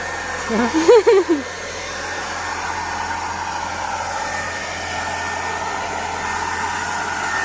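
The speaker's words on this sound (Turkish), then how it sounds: "Sen fönü getirmedin mi? Getirdim getirdim." A hair dryer hums steadily and loudly throughout, with a short voice near the start.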